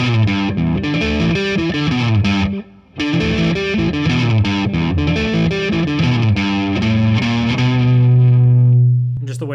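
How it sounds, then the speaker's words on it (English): Scar My Guitar Reaper electric guitar with two humbuckers, bridge and split neck pickups, plays heavily distorted chords and riffs, loud and dense, with a brief drop before a final ringing sustained chord. "just the way that sounds with the two humbuckers"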